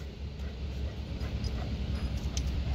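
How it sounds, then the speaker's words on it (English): A farm dog whimpers and yips softly close by during corn silage work, against a heavy, constant low rumble of machinery. "Are you friendly, doggy?"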